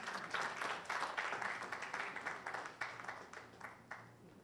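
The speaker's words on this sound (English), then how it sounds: "Please welcome her with a round of applause." An audience at a National Science and Maths Quiz balloting event applauds to welcome the managing director, a dense, continuous wash of clapping that holds steady and then slowly thins toward the end.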